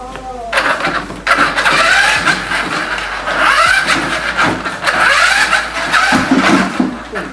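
A Bronco 4x4 remote control toy truck runs outdoors, its small motor whining in rising and falling bursts as it speeds up and slows, with people talking nearby over the motor.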